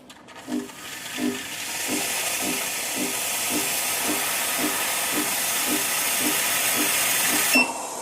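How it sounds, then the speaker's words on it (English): Steam wand purge on a Bincoo S1 Pro espresso machine: a sustained, loud broadband hiss of escaping steam running nearly the whole time, with faint rhythmic pump pulses ticking underneath and an abrupt cutoff at the end. "I will do a purge of the steam first."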